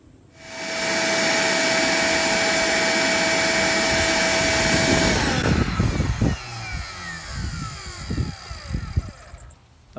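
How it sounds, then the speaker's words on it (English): A shop vacuum starts up with a loud steady whine and roar, then the airflow shifts and sputters with rattling bumps as a dryer vent flap is worked against the hose. "let's take a look at it on my shop vac to see if it opens up"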